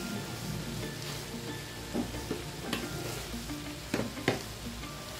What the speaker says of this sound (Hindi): अब मैं इसमें तकरीबन एक कप कोकोनट डालूंगी ये क्रश किया हुआ है